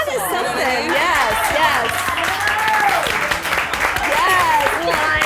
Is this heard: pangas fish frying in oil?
no